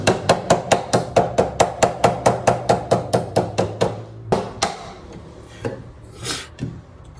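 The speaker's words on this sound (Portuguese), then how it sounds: "E aí eu venho com o meu martelinho de nylon e vou dar umas pancadinhas," A small nylon hammer taps a guitar nut on a Shelby acoustic guitar, around twenty quick, evenly spaced close knocks, followed by a few scattered bumps and a brief rasp of filing against a block.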